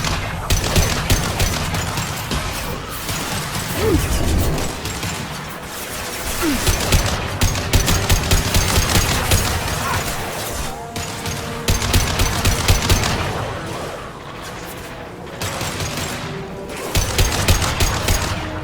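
Sustained automatic gunfire rattles through a Mass Effect 2 firefight, dense rapid bursts pausing briefly and resuming, loud and close with little talk.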